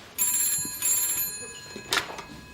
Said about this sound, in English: That was Mrs. Watts on the phone, one of Mrs. Winstanley's neighbours.